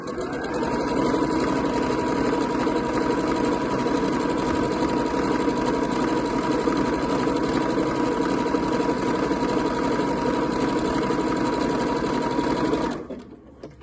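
A sewing machine zigzag stitching along the ruffle edges of a cotton skirt to stop fraying, running at a steady fast hum close by for about thirteen seconds before stopping abruptly, with no talking.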